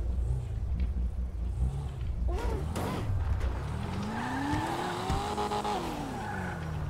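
A Lamborghini Aventador in GTA 5 drives with a steady low engine drone and tires skidding and squealing. A rising engine whine builds midway as the car accelerates, loud and continuous throughout, with no talk.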